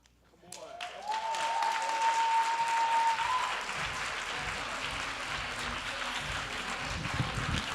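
Audience applause and cheering at a teen poetry slam in New York City, swelling quickly to a loud, dense wash of clapping that holds steady, with a brief whistle near the start and some voices mixed into the crowd.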